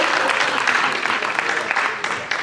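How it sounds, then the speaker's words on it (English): A graduation ceremony audience claps steadily in a dense, even wash of applause filling the hall, sustained throughout with no break. "y'all need to clap on that"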